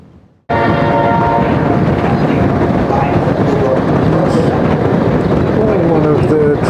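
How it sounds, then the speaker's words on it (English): A Panama Canal Railway train hauling containers rumbles past loud and close, with a continuous heavy roll of wagons and clattering wheels that starts abruptly and keeps going, and a horn-like tone among the noise. "One of the trains on the Panama Canal Railway."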